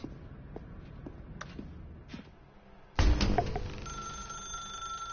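In the video game The Stanley Parable, a telephone suddenly starts ringing after a few soft footsteps, its loud bell then settling into a steady, sustained electronic ring.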